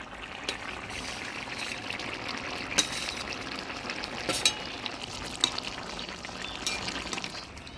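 Curry broth for a fish curry pours steadily into a hot pan, hissing and sizzling, with a few light clinks of a utensil against the pan.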